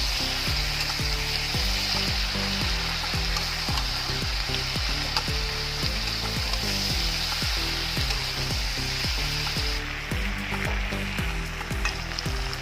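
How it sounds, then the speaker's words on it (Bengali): Mixed vegetables frying in a pan, a loud, steady sizzle with spatula scraping and stirring throughout, the hiss easing slightly near the end. "এবার ভালো করে একটু নেড়ে দেবো।"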